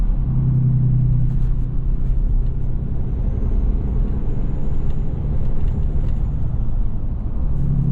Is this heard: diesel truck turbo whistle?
yes